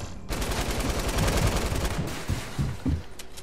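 Rapid bursts of gunfire from a shotgun in the Fortnite video game, loud and continuous with sharp repeated reports, followed by a few distinct heavier shots near the end.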